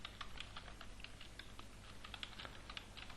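Fingers type on a computer keyboard in a quiet, rapid run of irregular clicking keystrokes that continues close by throughout.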